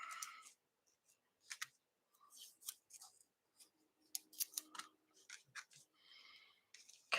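Scissors snipping through material in short crisp bursts, a series of close, quiet cuts separated by silent pauses, with no talk.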